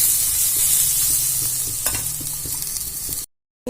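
Food sizzles steadily in a pan while being stirred and sautéed for amchur posto, a Bengali poppy-seed dish, with a loud, close hiss and a few soft spatula scrapes before the sound cuts off abruptly near the end.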